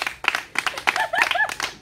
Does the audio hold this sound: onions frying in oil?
no